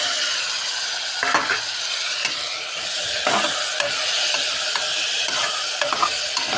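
Tomatoes and coriander stirred into hot oil in a pressure cooker, a loud continuous sizzle broken by scraping spoon strokes and small clinks against the pot.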